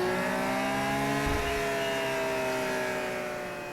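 BMW K1600 GT six-cylinder motorcycle running on a mobile dyno, its engine droning loud and steady with a smooth, rising-then-easing harmonic whine, slightly fading toward the end.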